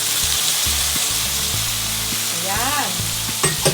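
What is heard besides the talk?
stirring beef sisig frying in a pan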